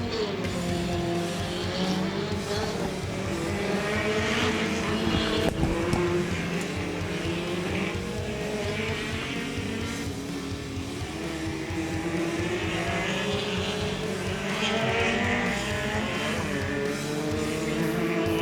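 Off-road race cars roar around a track at a national final in New Zealand, layered engines revving and shifting pitch continuously, with occasional tire noise, loud and sustained without pause.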